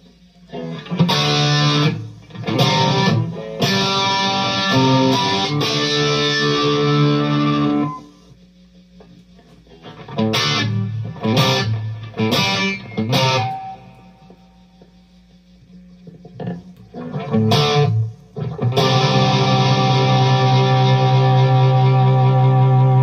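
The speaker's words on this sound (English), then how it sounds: "A little bit of chorus and some reverb." Distorted electric guitar through a Fender Mustang Micro with shimmering chorus and reverb, choppy stabs and sustained chords separated by quieter ringing gaps.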